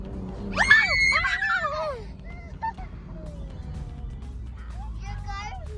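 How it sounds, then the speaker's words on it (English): A child screams shrilly in a moving BMW M2 Competition on a road trip from Dubai to Fujairah: a loud burst of rising and falling cries, then shorter, fainter squeals over a steady low cabin rumble. "Stop screaming."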